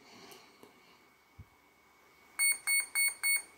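An ESC speed controller for a ZOHD Drift or Dart 250g plane sounds four short, bright electronic beeps in an even rhythm after a quiet stretch with a few soft clicks and a low thump.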